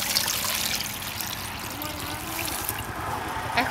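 Water is poured into a pot of halved cut potatoes set for boiling, a steady, close splashing trickle that runs without a break for about four seconds.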